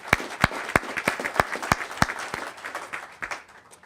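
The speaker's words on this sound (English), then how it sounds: "I want to give you a round of applause for being here" Applause at a Utah state political convention, with sharp, distinct claps standing out in a regular rhythm over a softer crowd clapping bed, close and moderately loud, tapering toward the end.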